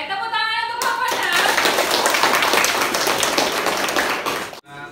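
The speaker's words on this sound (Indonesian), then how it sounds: "tepuk tangan untuk kelompok 6" Students in a classroom clap for a discussion group, a burst of hand clapping that starts right after a brief voice and runs steadily before cutting off abruptly.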